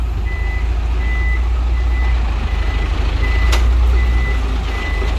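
A large truck reverses with its engine idling low and steady while a loud reversing beeper chirps in a regular, repeating rhythm close by.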